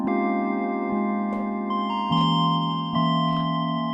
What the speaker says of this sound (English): And this is the synth line I want to test it out on.